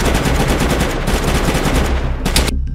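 Sustained automatic gunfire in the survival game DayZ during a clan base raid, a dense rapid burst of shots that runs loud and close almost throughout before cutting off near the end.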